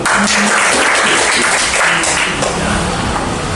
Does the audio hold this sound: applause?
yes